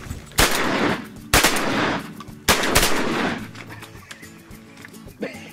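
Gunfire during a duck hunt: three loud, booming shots spaced about a second apart, each with a long rolling echo, followed by fainter rustling and small noises.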